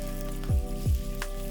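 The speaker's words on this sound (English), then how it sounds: "Add in the sliced meat. Now we're patiently stir-frying and may take a few minutes." Thinly sliced pork sizzles steadily in a wok during a stir-fry for Sichuan twice-cooked pork, with close, constant frying hiss and two brief scraping stirs over a low steady hum.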